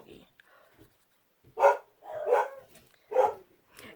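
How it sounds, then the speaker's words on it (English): A dog named Fergie barks in three loud, close bursts after a quiet stretch, with faint indoor sounds between the barks. "That would be the one who's barking right now, Fergie"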